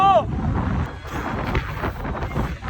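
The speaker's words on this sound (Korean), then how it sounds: "바람이 이렇게 불어" Strong gusts buffet a swaying fairground ride at Oktoberfest at night, with loud rushing, rumbling wind noise across the microphone and a brief voice cry at the start.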